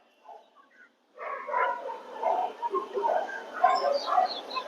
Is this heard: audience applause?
no